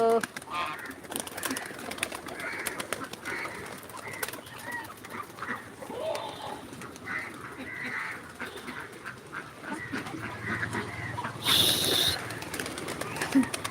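Pigeons call and flutter amid a busy background of clatter and faint voices, with a brief louder burst near the end.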